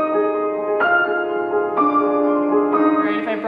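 Piano octaves voiced so the melodic top notes ring out over pedaled harmony in a Rachmaninoff concerto passage, with three clear struck chords about a second apart, each sustaining and decaying, played alone.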